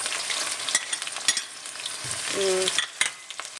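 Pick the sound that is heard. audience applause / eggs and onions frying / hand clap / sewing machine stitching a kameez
eggs and onions frying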